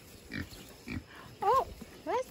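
A mother pig grunts in a farm pen: a few low, short grunts, then louder, higher squealing calls, with a person's voice speaking nearby.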